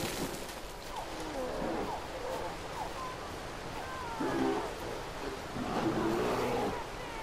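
A bear growls in Far Cry Primal amid jungle ambience, several low rumbling growls and throaty snarls rising at intervals, with louder bursts toward the end over a constant background hiss.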